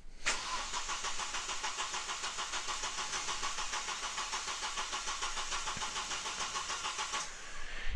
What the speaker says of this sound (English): it asks me to crank the engine again